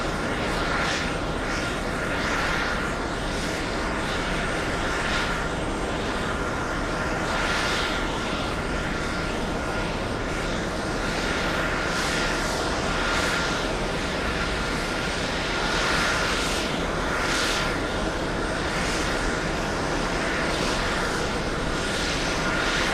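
A heavy Airbus A330 jet at JFK airport sounds as a steady, loud broadband engine roar with a broad hissing wash that swells and fades gently, continuous for the whole stretch with no talk.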